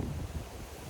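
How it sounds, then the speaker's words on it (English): Wind gusting across a microphone in an outdoor park, a steady low rumbling buffet with soft rises and falls, close and fairly loud, with no voices. "It's very windy,"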